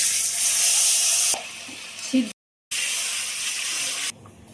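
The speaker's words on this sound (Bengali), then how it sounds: "ফোড়নে দেবো আমি রাঁধুনি জিরে শুকনো লঙ্কা তেজপাতা আদা বাটাটা দিয়ে দেবো" Radhuni, cumin, dried red chillies, bay leaves and ginger paste hit hot oil for a tempering for bitter gourd and ash gourd dal, giving a loud, steady hiss that cuts out briefly, then returns and quietens toward the end.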